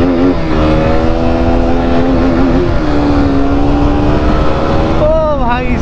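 A KTM motorcycle accelerates hard along a clean bypass road, its loud engine tone climbing steadily through the gears with wind roar, then dropping and rising again near the end.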